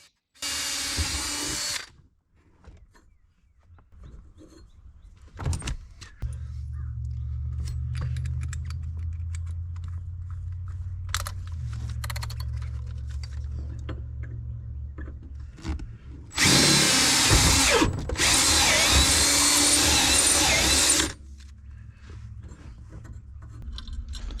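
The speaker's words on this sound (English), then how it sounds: "use a small drill bit to drill you a pilot hole for each hole" A power drill whines in several loud bursts, drilling small pilot holes in car pedals, with quieter low humming and handling clatter between them, close by, no talking.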